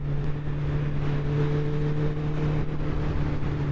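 A steady Kawasaki Z1000 motorcycle engine with Akrapovic exhausts idles with a low, even rumble and a strong constant hum, running alone without voices.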